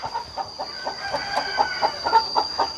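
Hens and chicks in a bamboo-and-tile-roofed coop on a Thai chicken farm, including a Burmese-breed mother hen, cluck and peep in a steady repeating patter at close range.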